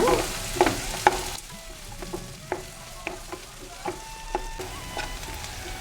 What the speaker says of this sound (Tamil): ரெண்டு பெரிய வெங்காயம், வெங்காயம் நல்லா வதங்கட்டுங்க.